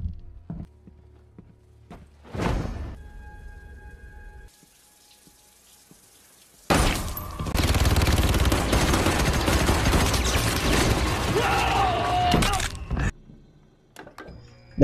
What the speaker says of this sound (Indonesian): Terjadi baku tembak yang menewaskan dua teman Knock.